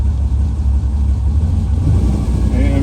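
A 1967 Ferrari 330 GTC with a front V12 and dogleg five-speed pulls away, giving a loud, deep engine rumble heard from inside the cabin that swells slightly near the end.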